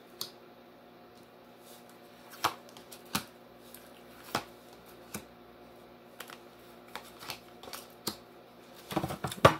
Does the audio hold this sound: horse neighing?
no